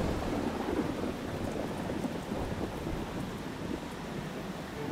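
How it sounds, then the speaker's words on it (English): Heavy cartoon rain pours steadily and loudly throughout, a dense continuous wash with low rumbling thunder beneath it and no speech. "But it's raining so heavily today."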